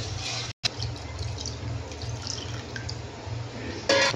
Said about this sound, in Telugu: మనకు ఎంత పులుసు కావాలంటే అంత వాటర్ యాడ్ చేసుకోవాలి.